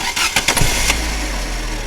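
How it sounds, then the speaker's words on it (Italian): A car engine cranks through a few quick rapid turns during a battery starting-load test, then catches and settles into a steady, fairly loud idle with no talking. "Vado ad avviare il motore."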